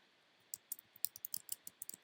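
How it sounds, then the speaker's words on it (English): Quiet, close keystrokes on a computer keyboard, a quick irregular string of about a dozen light clicks typed in steady succession with no talking. "We'll click in front of the next one and we will type in"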